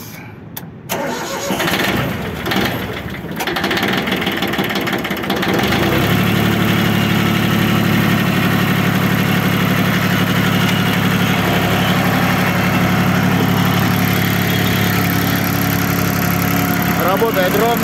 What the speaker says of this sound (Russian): Работает ровно, двигатель.